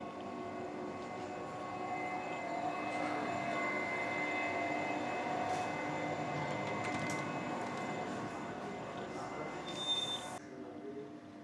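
A free funicular railway running back down at Thonon-les-Bains, with a steady rumbling hum of the car and track, faint overall, ending in a brief squeal and a drop.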